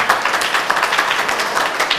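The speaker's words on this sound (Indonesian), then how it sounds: "tepuk tangan sekali lagi" Audience applause at a community gathering, a steady patter of many hands clapping at moderate volume, continuous and evenly spread for two seconds.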